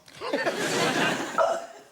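A loud, croaky burp given by a panellist on a comedy quiz show, one drawn-out belch lasting nearly two seconds, close and rough, with a short rise in pitch near the end.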